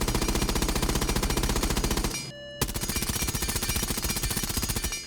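Nokk's FMG-9 submachine gun with a flash hider fires in Rainbow Six Siege, producing two long rapid automatic bursts of loud, evenly spaced shots separated by a brief pause.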